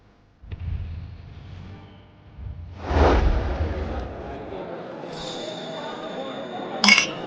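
A bright clink of glasses touching in a toast at a birthday banquet near the end, after several seconds of low rumbling background sound.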